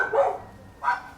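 Dogs barking nearby, two short sharp barks spaced under a second apart, with no talking over them.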